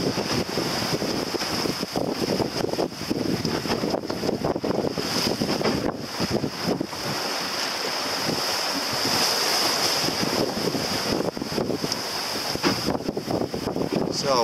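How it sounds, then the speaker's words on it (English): Big ocean waves and gusty wind around a small sailboat on open water with winds near 20 knots, a continuous loud rush of surf and wind noise buffeting the microphone, with no talking. "But mainly it's been these big waves"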